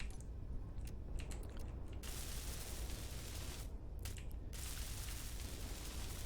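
A hand grinder tool cuts apart a pirate base in Space Engineers, a continuous dense mechanical grinding roar with faint ratcheting clicks, steady and close throughout with no talk.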